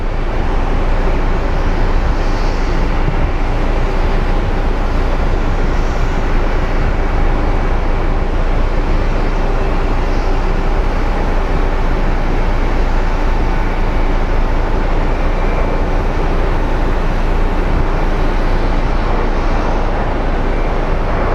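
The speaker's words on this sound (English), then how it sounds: "there's Jet Suite X, aka JSX, coming in to take off" A JSX jet at Phoenix Sky Harbor International Airport gives off a loud, continuous engine roar that holds steady without a break.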